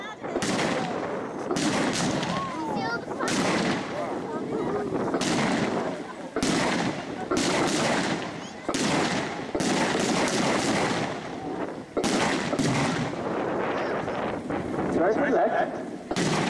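Simulated air-raid explosions at a World War II re-enactment during a 1940s wartime festival: a rapid series of sharp blasts and bangs, some overlapping, carrying across an open outdoor field, with a crowd audible between them.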